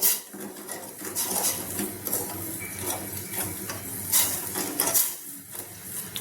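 A metal spoon scrapes and clinks against a pan in steady stirring strokes as ghee and sugar melt, with a soft sizzle underneath; no one speaks.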